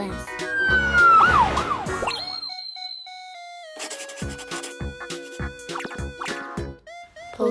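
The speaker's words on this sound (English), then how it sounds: "Ambulance." An ambulance siren rises and falls in a brief wailing sweep at the start. It is followed by bright, cartoon-like musical tones and a short silent gap.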